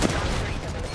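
Dense, continuous gunfire from Apex Legends fills a brief moment, loud and close with overlapping shots and no clear gaps.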